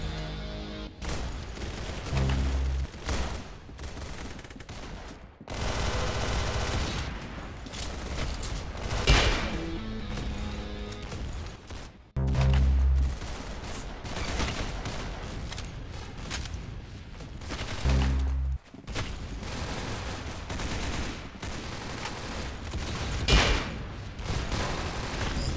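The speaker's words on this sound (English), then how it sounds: "Banging shot." Video game gunfire in an arena shooter: dense bursts of loud rapid shots and booms, broken by brief gaps, continuing across the whole stretch without talk.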